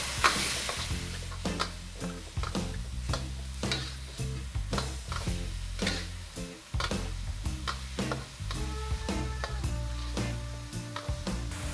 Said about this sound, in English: Then go ahead and add the ground pork. I want to break the pork up here.